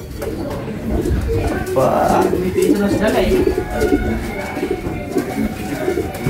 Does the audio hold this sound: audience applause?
no